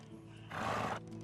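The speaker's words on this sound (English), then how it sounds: "I think it's my horse." Horse in the game Medieval Dynasty giving a short, fairly close whinny lasting about half a second, rising out of quiet background ambience.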